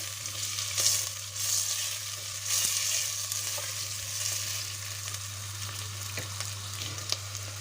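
Potatoes and onions sauté in a pan for a borlotti bean dish, a faint continuous sizzle over a low steady hum, with a few light clicks and no talking.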